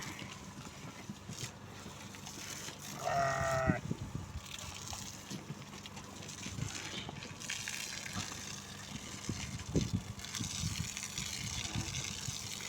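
One short, wavering sheep bleat stands out over a steady wash of background noise during a creolin dip bath, then the scene settles back into a low, continuous murmur.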